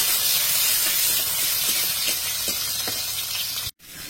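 Onions hiss and sizzle steadily in hot oil, a close, continuous bright frying noise with faint crackles, cut off by a brief dropout near the end.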